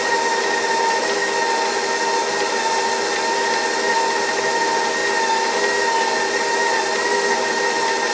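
Electric stand mixer whirring steadily on speed 4 while mixing walnut banana cake batter, a loud continuous motorized drone with a tonal hum that holds unbroken from start to finish, no voices.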